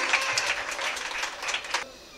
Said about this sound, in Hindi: तालियां बजाकर हौसला अफजाई कीजिए बराए मेहरबानी